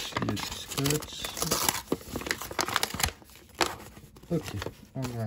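Taped parcel packaging holding Pokémon cards is pulled open, with close crinkling, rustling and tearing in irregular bursts mixed with speech.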